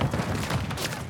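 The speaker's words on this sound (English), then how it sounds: "Tossing grenade!" A grenade blast in Call of Duty: Modern Warfare 3, a short loud boom with rumbling low thuds, close and brief, surrounded by the noise of a firefight.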